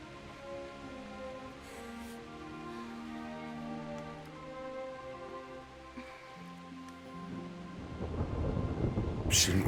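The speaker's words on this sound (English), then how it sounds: "Not afraid of thunderstorms, are you?" Thunderstorm with steady rain in the game Kingdom Come Deliverance, low rolling thunder rumbling under soft musical tones, building to a loud, close crash of thunder and heavy rain near the end.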